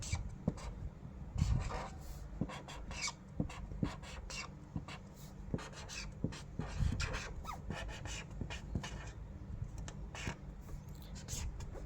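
Pen scratching on paper, quiet irregular strokes and taps spread through the clip, close up with light background noise.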